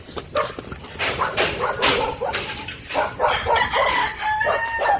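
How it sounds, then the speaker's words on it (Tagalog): A dog barks angrily in short, loud, repeated bursts in a rural yard, mixed with roosters crowing and chickens clucking nearby. "Nagalit yung aso sa atin."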